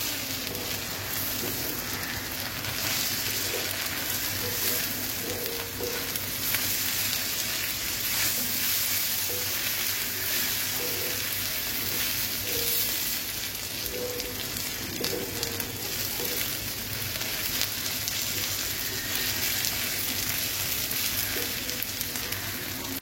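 Big slices of garlic frying with plenty of onion in a tawa for a Persian beef fry, a continuous close sizzle with faint crackles and a few soft clinks, steady throughout with no voice.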